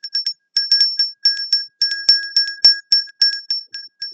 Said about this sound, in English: The bell is for them